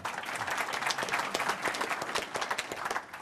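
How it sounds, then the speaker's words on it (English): A brief round of audience applause at a business conference Q&A session, a steady patter of many hands clapping at moderate volume, heard alone without talk. "just to get one round of applause for everyone"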